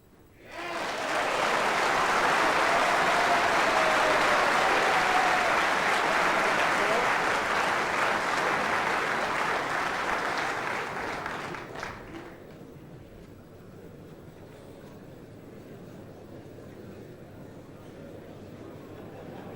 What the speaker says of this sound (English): Applause coming from the other side of the screen where another quarter-final is taking place.